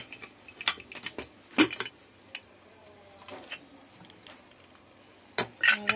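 Metal clinks and clatters as a pressure cooker lid is worked open after cooking dal, several sharp taps and rattles spaced over a quiet kitchen background.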